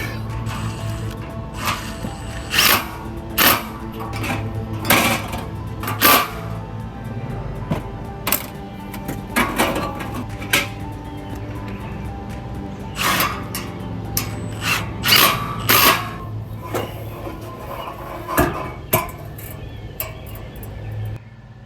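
A Milwaukee impact driver fitted with a 10 mm Snap-on socket drives bolts while a carport is assembled. It fires in repeated short, loud, rattling bursts separated by pauses, with no talking.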